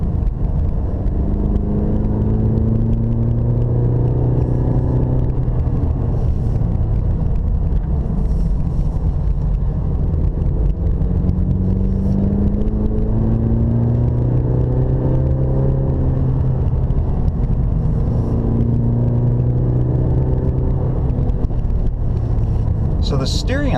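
A Cadillac CTS-V Sport in track mode climbs a mountain road on Mount Umunhum, heard from inside the cabin. The engine drones steadily, its pitch rising and falling with throttle changes.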